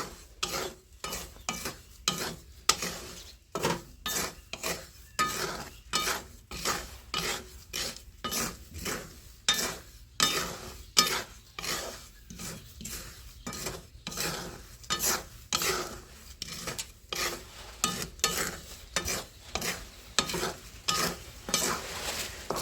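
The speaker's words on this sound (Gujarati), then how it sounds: "ભૂંગળી પણ આપણે આમ હલાવી નાખશું ભૂંગળી પણ જો સરસ મજાની આપણી શેકાવા મળી છે" Rapid, steady rhythmic scraping of a spatula stirring and roasting bhungli fryums in a pan, continuous rasping strokes at close range with no talk.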